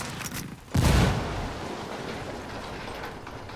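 A frag grenade goes off in the tactical shooter Ghost Recon Wildlands, one heavy low boom rolling out and fading into a steady outdoor rumble, with no talking.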